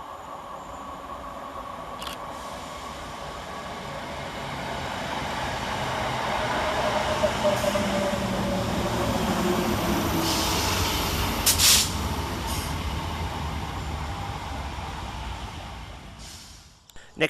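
Northern Rail unit 319367 on the 0941 Manchester Piccadilly to Crewe service pulls into Goostrey railway station, a low rumble swelling gradually from a distance with brief hissing bursts, then easing off near the end.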